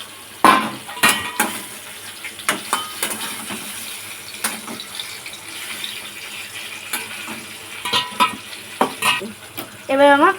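Hilsa fish pieces slid one by one into hot oil for sorshe ilish, giving a steady sizzle broken by clattering spatula knocks and spits, loudest near the end with a fresh burst of crackling.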